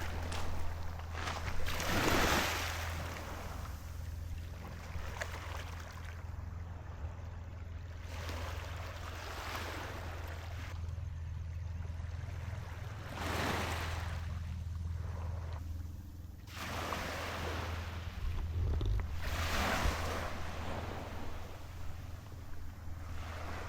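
Sea waves washing onto a fine-sand beach in Dinalongan, Aurora, several slow broad surges rolling in and receding over a steady low rumble and some wind noise, no talk.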